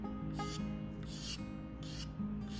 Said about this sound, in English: So these single edge razor blades make a handy dandy controllable small card scraper for little tasks like that.